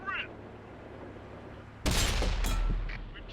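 A tank gun in World of Tanks, fired from a Skoda T40, goes off with one abrupt, loud boom that decays into a rumbling tail over about a second, after a quieter stretch of engine hum.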